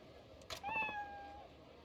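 A cat in the video game Like a Dragon: Ishin! gives a single clear meow, sharp at the start and trailing into a drawn-out tonal cry, up close over a quiet background.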